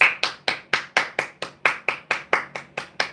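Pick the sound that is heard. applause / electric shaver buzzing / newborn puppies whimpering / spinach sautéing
applause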